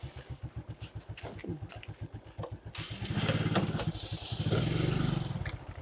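A motorcycle engine chugs at idle with a steady, rapid pulsing beat, then swells into louder revving, close by and heard without talk.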